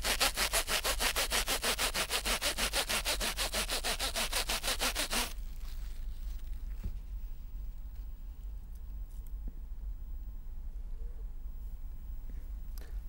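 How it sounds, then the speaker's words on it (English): Plastic comb rubbed briskly against a plastic sheet, a loud rapid back-and-forth scraping for about five seconds that stops abruptly, leaving quiet room noise. "I am going to rub this comb with this plastic sheet"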